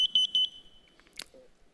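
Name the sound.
smoke alarm beeping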